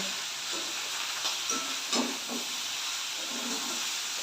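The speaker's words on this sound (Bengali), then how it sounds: "এবার ভালো করে নেড়ে ভাজা ভাজা করে নেবো" Cauliflower stirred and fried in a pan gives a steady hiss and sizzle with a few soft scraping knocks of stirring, close and fairly loud throughout.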